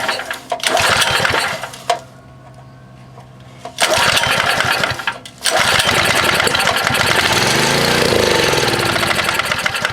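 Baja minibike engine running with its choke opened, a loud, buzzy, rattling small-engine putter that fades low for a couple of seconds, then surges back and holds a steady rough run.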